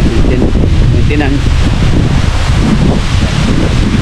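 Steady wind blowing outdoors on a farm, a constant loud rushing breeze buffeting the microphone throughout with no break.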